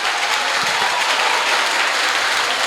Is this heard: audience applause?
yes